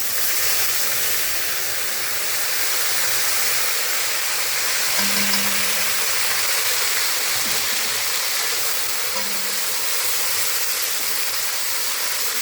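Ginger and green chili sizzle in hot oil tempered with cumin, a steady, even hiss that continues without a break and sits close to the listener.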